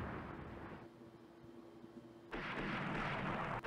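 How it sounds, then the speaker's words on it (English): Naval 16-inch guns fire in the naval strategy game Rule the Waves: a low rumbling bed, then a sudden loud, sustained broadband boom of a full broadside that holds to the end, with no talking. "Yep, we got all 16 guns firing."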